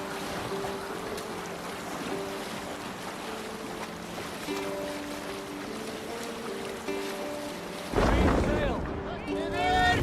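A sailing ship moves over waves in a video game, with a continuous wash of water and wind, musical tones on top and a louder surge of splashing near the end.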